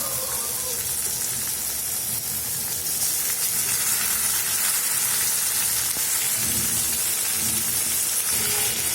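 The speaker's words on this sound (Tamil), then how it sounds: "தக்காளி நல்லா வதக்கலாம்" Chopped tomatoes sauté in oil for a Tamil brinjal curry, with a steady, close sizzle and hiss throughout and occasional soft stirring beneath it. No one speaks.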